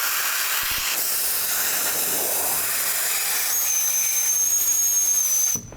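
High-pressure gas rushes from a cylinder through a Conwin dual split-second sizer nozzle into a balloon, a loud steady hiss with a rising whistle toward the end that cuts off abruptly.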